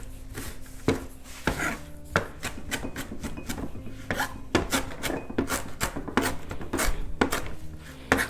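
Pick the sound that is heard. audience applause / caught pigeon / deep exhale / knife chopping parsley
knife chopping parsley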